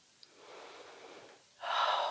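A person doing hatha yoga takes a slow, soft, close breath in, then lets out a louder, rushing exhale near the end.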